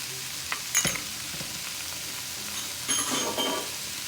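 Ginger and curry paste fry in a hot pan, giving a steady broad sizzle with a few scrapes and knocks of stirring, heaviest near the end, close by with no voices.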